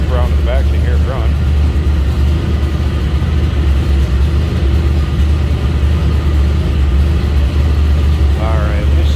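A 1979 Pontiac Trans Am with a 403 V8 idles steadily at close range, a deep continuous low rumble throughout, with brief voices faintly audible over it.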